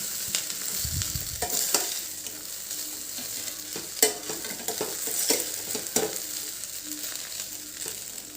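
A spoon scrapes and stirs through sweet potato rice in a hot pan over a constant sizzle, with occasional sharper clacks against the metal.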